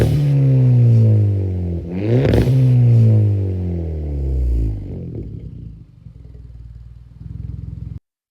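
A Hyundai Elantra Sport's turbo engine revs loudly up and down in rising and falling sweeps, then settles into a lumpy, rhythmic idle before cutting off abruptly.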